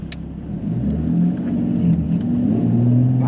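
A car engine revving on a test drive, with a suspected gearbox fault and a worn front bush, gives a loud, continuous low drone that rises and swells steadily from start to finish.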